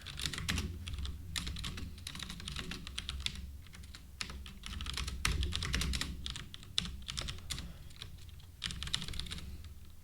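Steady typing on a computer keyboard while a query is written in code, close and fairly quiet, with rapid irregular key clicks that keep going without pause.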